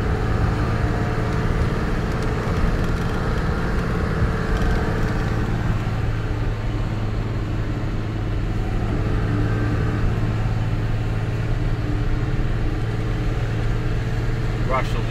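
Isuzu FRR truck engine driving laps of the Mount Panorama circuit, a steady loud diesel drone with a constant low hum throughout, heard from inside the cab with someone talking over it.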